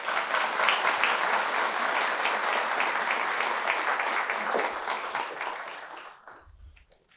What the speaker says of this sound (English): It's so nice of you all to clap before we've even opened our mouths